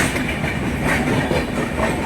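A passenger train runs on rails near Bhusawal, giving a steady loud rumble with faint rhythmic clatter of wheels, heard from inside the moving carriage with no voices.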